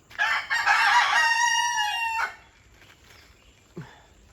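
A rooster gives one loud, close crow lasting about two seconds, followed by quieter rustling and a short cluck near the end.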